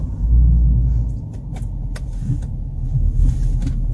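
Inside a Range Rover car while driving, a low rumbling cabin drone with road noise and a few faint clicks and taps, steady throughout with no voices.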